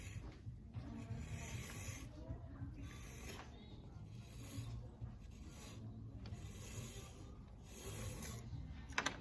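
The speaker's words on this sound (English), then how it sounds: "I'm gonna spin as I turn and hold this knife right against the wheel head" A knife held against a basket spinning on a wheel head, trimming a slightly damp, still-flexible oval basket, giving a steady soft rasping scrape that rises and falls in repeated passes, close and fairly quiet.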